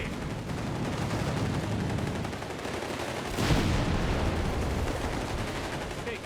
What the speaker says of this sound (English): the full crew there hard at work, shooting at Americans